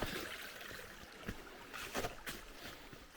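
A mountain stream flows beside a trail on Yonghwasan in Hwacheon, Gangwon, a soft steady rushing hiss of water with a few close scuffs and knocks of footsteps on top.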